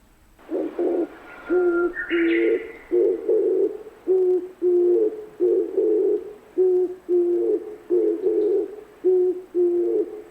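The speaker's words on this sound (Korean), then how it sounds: "아주 흔하지만 우리가 잘 몰랐던 이 새소리의 주인공은 바로 맷비둘기입니다." An oriental turtle dove coos repeatedly in a steady, low, rhythmic pattern of hoarse phrases, close and clear, with a brief higher chirp near the start.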